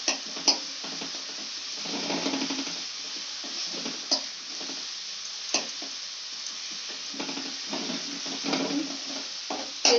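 Spice paste for a giant prawn malaikari fries in hot oil with a steady close sizzle, broken by scrapes and stirring taps from a spoon against the pan, and no talk.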